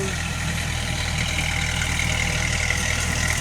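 A farm tractor engine runs in a field, giving a steady, loud, continuous diesel drone with a constant low rumble and no pauses.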